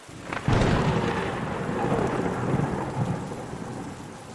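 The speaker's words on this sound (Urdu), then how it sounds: "بارش اور طوفان میں بھی تیزی بڑھ گئی۔" A thunderstorm with heavy rain and strong wind: a sharp thunder crack near the start rolls into a steady, dense roar of rain and gusting wind that fills the rest of the clip, loud and close with no voices.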